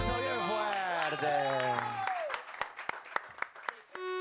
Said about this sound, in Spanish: Y nos aplauso bien fuerte.